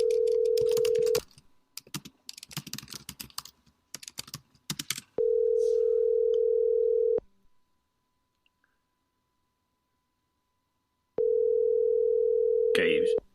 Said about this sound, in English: let's call Kevin on his cell. Let's see if that's any better. Okay, it should be dialing here.